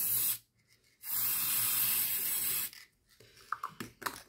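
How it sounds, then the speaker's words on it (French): A gold spray paint can sprays a Christmas tree decoration in two long, steady hissing bursts, separated by a short pause. Faint clicks and rattles from handling the can follow. "Donc là, j'ai mis une bombe couleur or."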